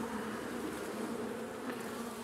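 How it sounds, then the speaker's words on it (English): Honeybees buzz densely around open hive frames, some carrying pollen, forming a continuous close, loud insect hum with individual bees droning past, with no voices. "There's a few bees carrying pollen along here."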